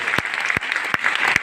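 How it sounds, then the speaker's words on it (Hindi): A meeting audience bursts into loud, dense clapping, sustained close applause with a few sharper individual claps standing out. "जोरदार तालियां हम सभी के गुरु माता पिता धर्मशिला में सुरेंद्र सर के लिए"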